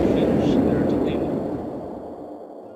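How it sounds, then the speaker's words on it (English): A long explosion sound effect from a visual novel game under development: a broad, rumbling roar that starts loud and slowly fades over a few seconds, with no voices. "Well, that's a long explosion."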